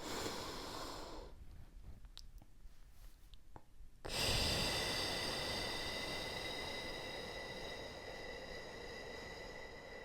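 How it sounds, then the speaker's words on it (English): Slow, deep breaths during a calming grounding exercise, a long airy inhale-exhale with a quiet gap in the middle and steady soft hiss at close range. "let's go ahead and take a couple deep breaths"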